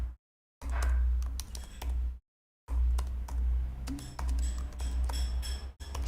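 Fast typing on a computer keyboard: rapid clustered key clicks, close and fairly loud, broken by two short silent gaps, with a low background hum.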